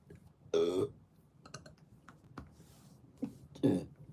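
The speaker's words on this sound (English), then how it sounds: "I should not be burping." Two loud close burps, one early and one near the end, with softer throat sounds and brief clicks between them in a quiet room.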